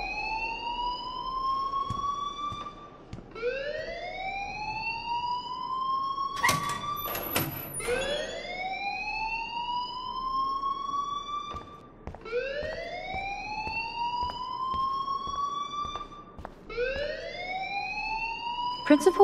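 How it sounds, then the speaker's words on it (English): A fire alarm in the video game Life Is Strange repeats loud, rising electronic whoops every few seconds, with a few sharp clattering bangs in between. "please turn off that alarm since that's your job"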